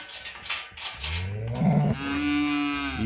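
Cattle low loudly at a ranch during calf shipping and sale handling: one long, close, resonant moo dominates after a few short knocking sounds.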